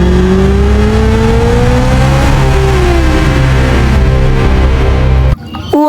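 A toy racing motorbike's engine revs loudly and close, its whining pitch climbing and sliding in a continuous drone before cutting off abruptly near the end.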